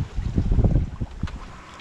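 Wind buffets a sailboat moving through 16 knots of breeze, a low rumbling gusty roar that fades toward a softer hiss.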